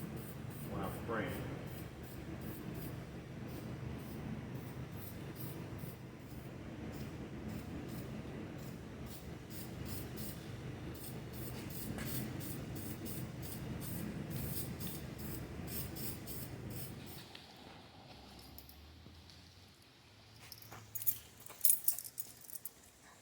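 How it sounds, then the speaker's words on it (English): An aerosol spray hisses in short repeated bursts while painting a small-block Chevy 400 engine block for most of the clip, then stops, followed by faint rustling and clinking. "Finished product, got the block sprayed."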